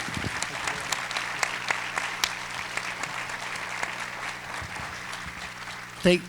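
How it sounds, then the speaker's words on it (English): Audience applause at an Economic Club of Indiana luncheon, a moderately sized crowd clapping in a steady, somewhat distant wash with scattered sharper claps, ending with a brief louder thump. "let's give Scott a round of applause"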